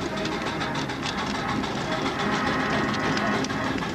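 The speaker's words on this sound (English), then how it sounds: "Here's a 3-inch scale agricultural tractor engine now coming." A 3-inch scale miniature agricultural traction engine runs steadily at a 1999 steam fair, its continuous chuffing mechanical clatter fairly loud and constant with crowd noise around it.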